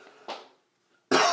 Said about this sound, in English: I need a cough, I'm going to pause this